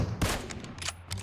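Shotgun blasts in the mobile battle-royale game PUBG Mobile, several sharp, loud reports spaced irregularly across a brief burst of combat.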